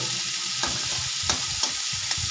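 Crab and crab ghee fry in hot oil in a wok, a steady loud sizzle broken by a few sharp scraping stirs, with no voices.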